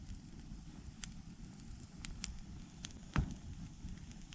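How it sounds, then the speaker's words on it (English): A campfire burns in the woods during a night expedition near Little River in the Kiamichi area, giving soft, steady crackling with a few sharp pops, faint and close with no talk. "now that's a nice campfire."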